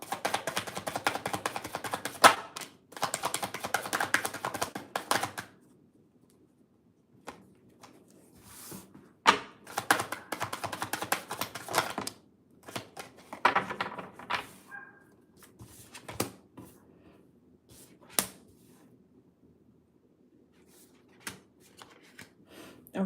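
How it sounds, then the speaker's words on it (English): Cards being shuffled in several bursts of riffling and flicking, each followed by brief pauses, with lighter handling sounds in between; close and fairly quiet. "I'm going to do one more shuffle."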